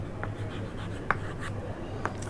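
Words are written by hand during an English lesson: a few faint, short scratching strokes over a low steady room hum.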